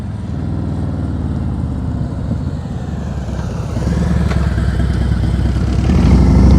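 A motorcycle rolls along at slow speed during a slow-riding skills practice session, its engine a steady close rumble that shifts and swells as it downshifts and picks up revs.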